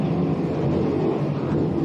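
Offshore racing powerboats at an IHRA race off Cocoa Beach, a dense, continuous low engine rumble, loud and unbroken throughout.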